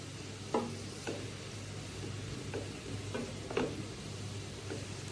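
Chopped onion frying quietly in a pan as the base for a chewa fish curry, a low steady sizzle with a few sharp spoon scrapes and taps against the pan at irregular intervals.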